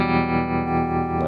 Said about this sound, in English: Nice tremolo.